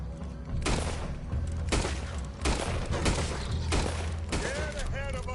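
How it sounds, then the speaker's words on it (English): Gunfire from the video game Red Dead Redemption 2 rings out in repeated sharp bursts over a dense, busy game soundscape, with voices talking throughout. "Put every bullet you got in him."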